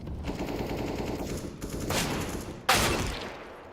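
Gunfire rattles through a Counter-Strike esports match, Heroic against Sprout, with rapid bursts and a sharp louder volley near the end over a steady din of game ambience.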